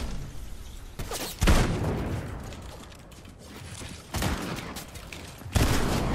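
Gunfire in the Fortnite battle royale game: several sharp, loud shot bursts stand out over a noisy game background, with longer gaps of quieter ambience between the volleys.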